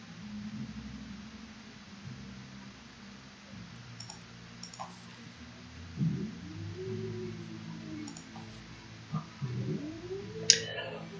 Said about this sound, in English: Jeez, you're a grumpy cat.